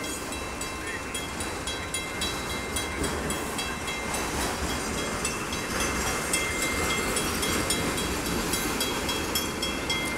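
An autorack freight train rolls past the Fondren Road crossing, a steady continuous rumble and clatter of wheels and rail cars, loud and close throughout with some wind noise, no talking.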